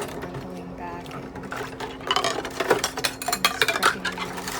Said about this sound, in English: scrubbing them again before I put them back in the dishwasher